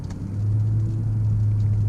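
A Honda car with a CVT transmission and paddle shifters cruises on back roads, giving a steady, low engine and road hum that holds even and unbroken throughout, with no one speaking.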